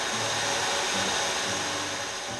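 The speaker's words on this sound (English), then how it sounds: "we'll put it on our stand mixer with the whisk attachment, and we're going to whisk it on high for about 8 to 10 minutes" A stand mixer with a whisk attachment runs on high, beating a tiramisu egg mixture with a loud, steady motor whir and airy whine, unbroken and alone for the whole stretch.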